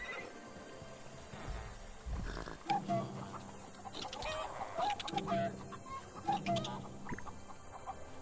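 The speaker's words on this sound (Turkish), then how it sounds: "Aa tavuklar geliyor yanıma" Minecraft Legends game audio with chickens clucking in short bursts, mixed with horse neighs, whinnies and other animal calls over a background of game music, fairly quiet overall.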